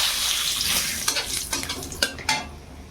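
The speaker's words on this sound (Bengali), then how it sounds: "এই তেলের মধ্যে আমি যে কালো জিরে ফোড়ন দিলাম আর একটু দেবো" Black cumin seeds and bay leaf sizzle in hot oil with a steady bright frying hiss, broken by several sharp clinks and scrapes of a stirring utensil against the pan.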